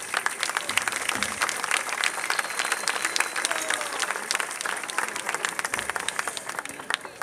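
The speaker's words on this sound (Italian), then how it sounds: "Un applauso, un applauso." Crowd applause at a local festival event in Firenzuola, steady and sustained hand clapping from many people, fairly distant and even, with faint voices underneath.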